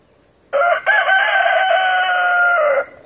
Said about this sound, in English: Come on, give me a crow.